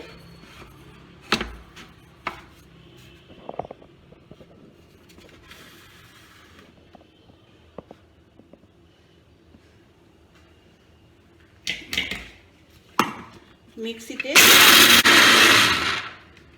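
A mixer grinder grinds peanuts for chutney in a short, loud whirring burst near the end, after scattered clicks and knocks.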